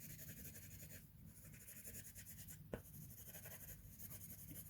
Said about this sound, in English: Just lots of pencil there.